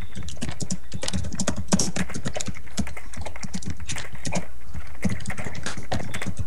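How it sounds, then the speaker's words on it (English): Rapid, uneven clicking of computer keys being typed on, close and crisp, with brief pauses between bursts. "If you guys can hear my typing right now"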